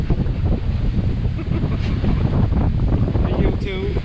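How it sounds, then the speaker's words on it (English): Strong wind buffets the microphone on a boat at sea, a loud, steady roar and rumble with the wash of water beneath, while a voice speaks faintly through it. "I don't know if you can hear me with the wind going on"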